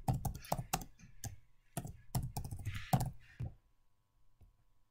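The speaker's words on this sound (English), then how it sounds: "Type the subject of your message" Quick bursts of computer keyboard typing clatter in uneven clusters, with short pauses between runs of keystrokes, close and fairly soft, ending in near quiet.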